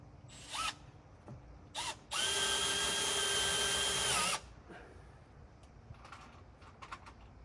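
Cordless power drill driving screws into roof beams during a roof installation: one steady whir of about two seconds, close and loud, with a few faint short knocks and handling taps before and after.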